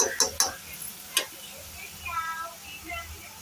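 Spoon stirring melting jaggery in a pan, a few sharp scraping clicks near the start and then softer scraping with a faint sizzle, close and fairly quiet.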